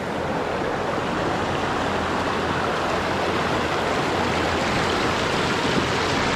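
A riverside spot where rushing river water makes a steady, dense broadband wash with no break, loud and close, with no voices.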